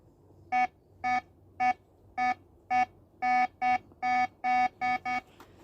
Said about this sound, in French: Alors là, vous avez le son du détecteur sans Pinpointer